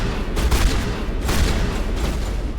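Shotgun fire in Mass Effect, a few heavy, booming blasts about a second apart over a dense rumbling battle background, loud and close with no speech.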